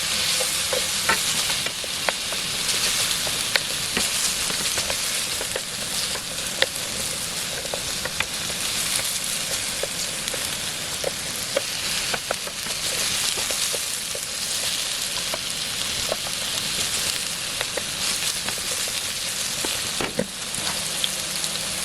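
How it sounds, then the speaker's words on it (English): Steady sizzling of vegetables frying in a hot pan, with occasional scraping and stirring clicks throughout; no voices. "hear that sizzling now"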